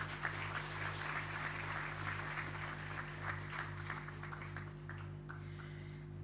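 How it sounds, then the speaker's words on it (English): An audience at a national schools debate grand final applauds the introduced team, a sustained mid-distance patter of many hands over a steady low electrical hum, fading toward the end. "Please give them a round of applause."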